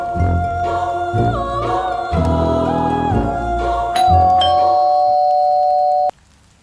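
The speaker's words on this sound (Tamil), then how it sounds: "calling bell sound கேட்குடா" An electronic doorbell plays a short chiming melody of several tones, clear and nearby, then cuts off abruptly into quiet.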